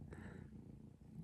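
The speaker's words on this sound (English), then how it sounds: "Can you hear him purring?" A soft, steady low rumble of a kitten purring, close and continuous, with a faint brief rustle near the start.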